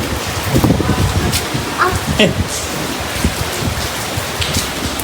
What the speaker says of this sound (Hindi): इतनी मस्त मस्त बारिश आ रही है